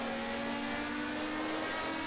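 The Zakspeed Capri race car in Project CARS, a DRM series racer, holds a steady, loud engine drone at sustained revs, continuous and close with no talk over it.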